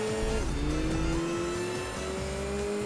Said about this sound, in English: Can definitely hear the car behind me.